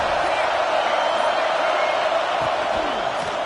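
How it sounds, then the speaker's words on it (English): A football stadium crowd roars in a steady, dense wash of cheering that holds at a constant loud level throughout, with a commentator's voice over it. "This crowd ready to make its presence known."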